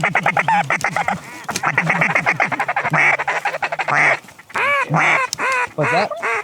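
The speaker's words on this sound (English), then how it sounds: "Big bunch of birds." A big flock of ducks quacks and calls loudly and continuously at close range over a dry field during a duck hunt, with dense overlapping honking calls in rapid bursts.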